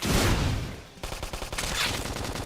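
A flame grenade goes off in the Xenoblade Chronicles X video game, a loud broadband blast followed after a short dip by a rapid crackling burst of repeated impacts.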